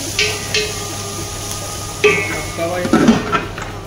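Food frying in a pot while being stirred, with metal utensil scrapes and clinks over a low sizzle, a few distinct spoon knocks, close and moderately loud.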